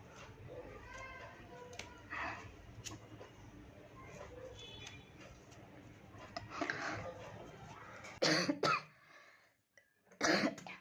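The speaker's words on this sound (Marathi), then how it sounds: "खोकला एक लागला" Quiet room tone with soft rustling, then a couple of sharp, close coughs near the end, separated by a brief silence.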